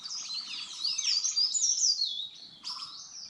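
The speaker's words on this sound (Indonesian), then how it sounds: "Mendengar suara kicau burung." Birds chirp and warble on Mount Raung, a bright, busy stream of song from nearby with overlapping tweets, a short lull, then another burst of calling, with no talking.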